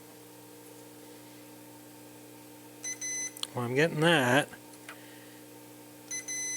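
Short electronic multimeter beeps sound during a continuity check on an Elmyra synth build, a steady tone starting near three seconds and returning near six, with a voice speaking over the middle.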